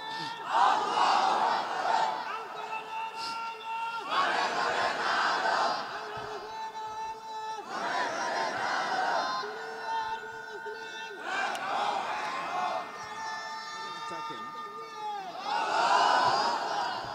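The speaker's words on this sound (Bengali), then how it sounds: "তাকবীর দেন" A large rally crowd chants the takbir in unison, four or five long swelling call-and-response waves of massed voices, loud and echoing across an outdoor gathering, each rising and fading in a steady rhythm.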